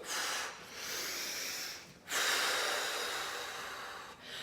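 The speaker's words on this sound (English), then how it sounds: "You can see me breathing like that." A person breathes deeply during a guided meditation: three loud, airy breaths in and out, each drawn out, close to the listener and heard alone.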